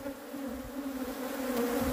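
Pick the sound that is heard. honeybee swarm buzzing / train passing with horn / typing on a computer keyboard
honeybee swarm buzzing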